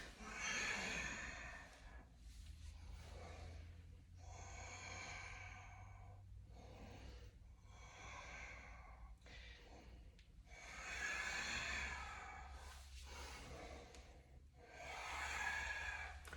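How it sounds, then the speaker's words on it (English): Deep yoga breathing in a studio, long slow inhales and exhales heard close and fairly quiet, each breath a soft airy rush lasting a few seconds in a steady cycle with brief pauses between. "Hopefully you can hear my breath."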